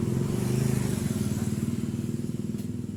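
A Yamaha motorcycle engine is kick-started and catches, giving a close, steady, rapid putter that fades slightly over a few seconds.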